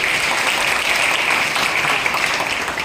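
Dense, loud clapping from a children's literature gathering's audience in Parbhani, honouring teachers, sustained evenly for a few seconds without talk.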